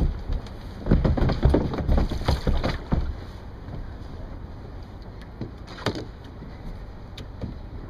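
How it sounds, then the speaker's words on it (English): A kayak is loaded into the water of Boston's Fort Point Channel in early November, with splashes and knocks of the hull up close over steady wind and water noise. "I'll load the kayak into the water."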